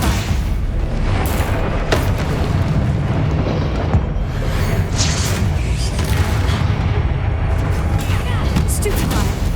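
Stupefy spell blasts in Hogwarts Legacy combat sound as dense, booming impacts over a constant roar of battle noise, loud and relentless with no pauses.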